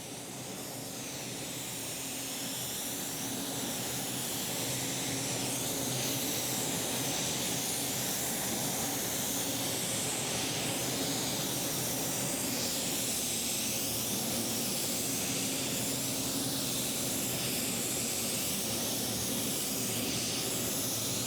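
A paint spray gun lays base coat onto a car in a workshop, giving a continuous loud, even hiss that swells at the start and stays steady for the whole stretch with no talking.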